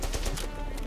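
Gunfire in the World War II shooter Call of Duty 5 during a co-op mission: a quick burst of several sharp shots in under a second, loud and close, with no voices over them.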